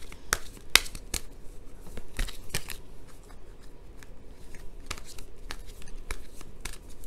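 Tarot cards are shuffled by hand in a run of crisp snapping riffles and quieter sliding rustles, close and moderately loud, with no talk.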